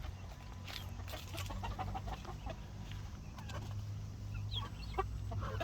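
Brahma hens and chicks clucking softly in a coop in the afternoon, a faint scatter of short clucks and peeps close by, with low background hum.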